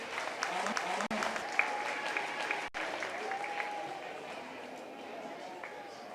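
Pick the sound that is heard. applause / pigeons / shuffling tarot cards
applause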